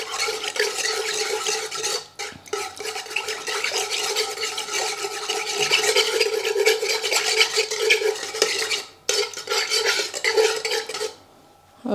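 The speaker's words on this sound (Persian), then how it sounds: "آب میندازیم همراه یک چنگال یا یک قاشق میکسش میکنم." A fork or spoon stirs flour and water together in a bowl, making continuous scraping and clinking for about twelve seconds, loud and close, with a couple of brief pauses.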